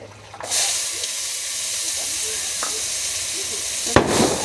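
Onion paste frying lightly in a pan, a loud sudden hiss as it hits the oil, settling into a steady sizzle with a few clinks and another burst near the end.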